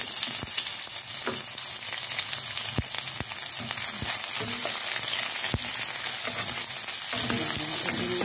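Garlic and onion sizzle steadily in hot oil in a pan, a continuous dense crackle with occasional sharp pops and stirring scrapes, close and loud, with no voices.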